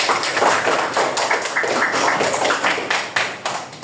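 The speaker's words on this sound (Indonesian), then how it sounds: "Kita beri aplaus buat kalian ya" A classroom of students gives a round of applause, a steady patter of many hands clapping close by that lasts several seconds and thins out toward the end.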